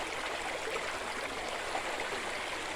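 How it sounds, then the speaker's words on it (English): Rock Spring river water running over rocks, a steady broadband rush of flowing water heard close and continuous with no voices. "nice running river"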